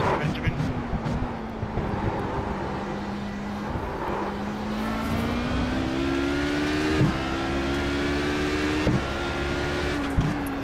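GT3 race car engines roar in the iRacing sim at Monza, several cars sounding off with steady rising engine tones and gear shifts, loud and continuous with a voice talking over them.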